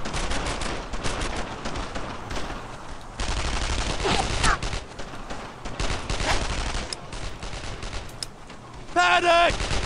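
Rapid bursts of rifle and machine-gun fire in the World War II shooter Brothers in Arms: Earned in Blood, loud and continuous with clattering fusillades, ending in a brief tonal game sound.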